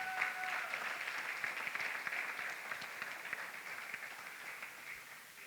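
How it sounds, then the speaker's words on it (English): Graduation audience giving school staff a round of applause, a steady wash of many hands clapping at moderate distance that slowly tapers off. "Another round of applause for ULC staff"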